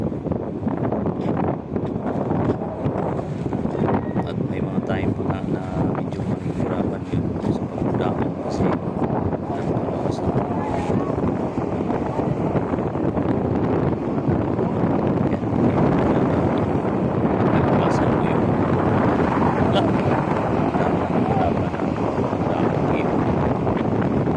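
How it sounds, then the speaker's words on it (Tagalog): Strong wind roars steadily over a small fishing boat heading home at sea, a loud, continuous broadband rush buffeting the microphone for the whole stretch, with little letup. "mapapansin po natin na hanggang sa pag-uwi ay napakalakas pa din ang hangin."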